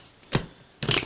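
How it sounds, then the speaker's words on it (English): Tarot cards shuffled by hand in two short bursts, a brief riffle followed by a longer, louder flurry of card flicks after a pause, close up with no talking. "I've got 3 shuffles left, and I like to do it on camera so that my readings are transparent."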